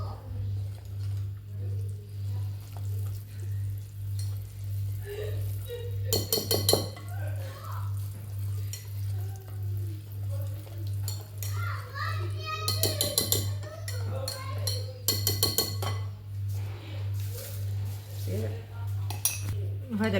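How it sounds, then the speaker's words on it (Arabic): Dough ingredients with sifted flour are mixed in a bowl for Ramadan savory pastries, giving scraping and clinking against the bowl that comes in brief louder bursts over a steady pulsing hum, with children's voices in the background. "وكنخلط."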